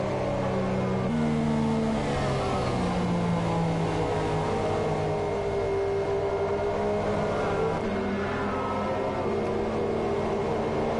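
F1 car engines on the formation lap at the Bahrain Grand Prix in a racing game, a steady dense drone of several engines with pitch stepping down through the gears, loud and continuous with no talking.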